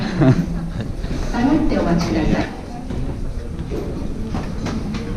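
A mountain train carries passengers through the Alps, its steady rumble and rail clatter running throughout the ride, with a louder stretch early on and people talking over the noise.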